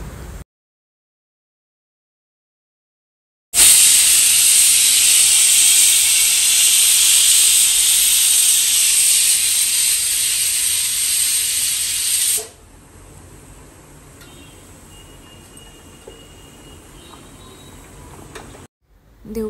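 A pressure cooker on a home stove, cooking dal and rice, lets out a loud, sustained hissing whistle of escaping steam for about nine seconds, then drops to a softer, steady hiss before it goes quiet.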